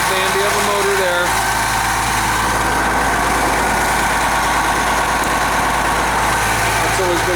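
A 1995 Blue Bird transit bus with an 8.3-liter turbo Cummins diesel sits idling, a loud, steady low rumble with constant mechanical clatter close by, while someone talks over it.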